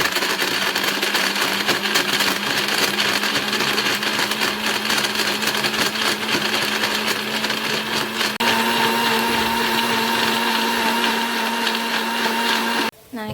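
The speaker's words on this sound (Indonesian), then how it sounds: "ini tinggal kita blender aja kira-kira sampai kurmanya benar-benar halus" A kitchen blender whirs continuously, grinding dates, milk and water into almond date milk, a loud steady motor drone with a slight pitch shift midway before cutting off abruptly at the end.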